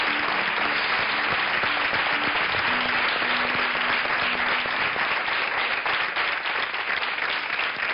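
Studio audience applause on a television show, steady dense clapping that stays loud and even throughout eight seconds, with a faint tone underneath at first.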